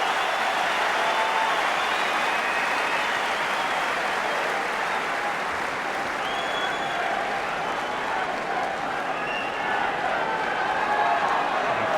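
Wimbledon tennis crowd on its feet cheering and applauding after a forehand winner, a dense, steady roar of clapping and shouting that holds loud and unbroken throughout.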